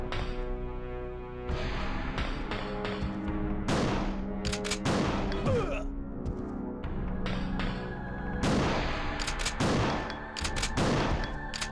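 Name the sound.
shotgun firing in Resident Evil 2 video game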